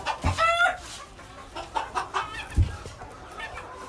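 Chickens cluck close by inside a farm coop, with a brief rooster crow near the start and scattered soft clucks and bumps after it.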